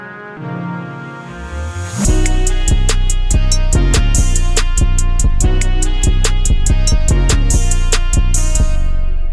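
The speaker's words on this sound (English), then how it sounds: "if we add all the other sounds, all the other instruments, this is what it sounds like." A full beat starts with a soft, muffled intro, then drops in with heavy 808 bass, crisp rapid hi-hats and layered instruments playing loud and steady to the end.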